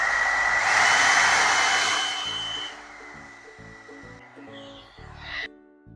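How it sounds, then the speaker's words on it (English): An Alan Truman blow brush hair dryer runs on its low setting with a steady airy whir that gradually softens, while faint background music plays underneath before it switches off. "let's go to the low setting and let's see."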